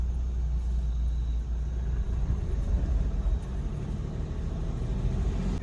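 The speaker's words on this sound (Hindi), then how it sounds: "घने जंगल से गुजरती हुई गाड़ी क्या ज़बरदस्त लग रही है यार" A vehicle rumbles steadily through dense forest in the Kalagarh Tiger Reserve near Dhikala, a low continuous engine and road drone close by, with no talking.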